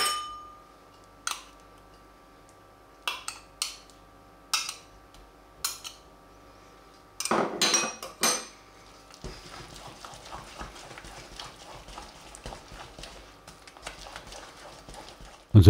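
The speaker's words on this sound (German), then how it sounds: "Ja, und da wird richtig kräftig durchgerührt, bis alles schön verteilt ist." A spoon stirs poppy seed filling with butter vigorously in a pot, first as sparse knocks and clinks against the metal, then as fast, continuous scraping and rattling.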